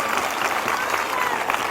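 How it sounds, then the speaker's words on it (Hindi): A church congregation claps together during a live morning prayer service, a dense, steady roar of applause with no break, loud and close throughout. "आपकी तालियों की आवाज़ इस चर्च से बाहर भी नहीं जा रही।"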